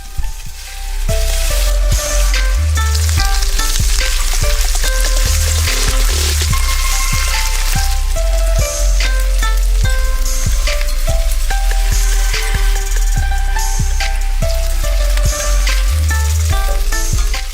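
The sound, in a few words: beef pan-frying in oil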